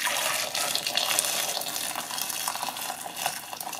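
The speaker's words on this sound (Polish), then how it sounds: "I zalewam wrzątkiem." Boiling water pours steadily from a kettle over three cross-scored tomatoes in a kitchen, a continuous splashing hiss that stays close and fairly loud throughout, with no talk.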